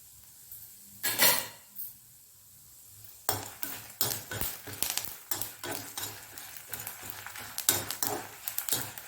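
Curry leaves and dried red chillies frying in a pan for a brinjal gothsu, a soft sizzle broken by clinks and scrapes of a spoon stirring against the metal.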